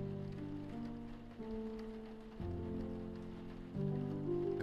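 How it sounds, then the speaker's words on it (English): Steady rain falling in an isometric crafting and survival role-playing game at night, a soft continuous patter beneath sustained ambient music tones that shift every second or so. "It's still going to be raining?"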